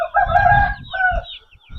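An Aseel rooster crowing close by, a short hoarse call in two parts with a brief break between them, loud and alone.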